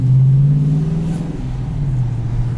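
A 2018 Dodge Challenger T/A Plus automatic revs with its exhaust valves open, a loud, steady, deep engine drone heard close from inside the car, with no talking.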